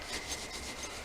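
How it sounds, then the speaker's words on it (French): Soft, rhythmic rubbing over marzipan to clear away cornstarch traces, a close, faint scraping swish repeated several times in quick strokes with no voices. "je frotte un petit peu pour enlever une éventuelle trace de maïzena"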